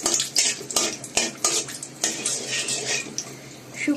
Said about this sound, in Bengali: শুকনা মরিচটা একটু হালকা ভেজে নিব